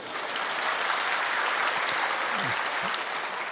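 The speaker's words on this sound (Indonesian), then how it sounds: "Kita berikan tepuk tangan dulu ya." An audience at a religious lecture breaks into applause, a dense, steady clapping that stays loud and even for the whole few seconds, with no talk over it.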